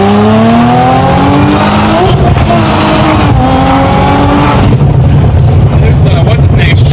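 A car accelerates hard in second gear on a drive, engine note rising loud and strained, then shifting and climbing again, with a rough roaring surge near the end and faint voices in the cabin.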